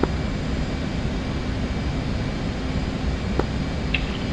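An F/A-18C fighter jet taxis onto the runway in the DCS flight simulator, its engines a steady, loud whine and rumble that holds evenly from start to end, with a couple of faint clicks and no talk.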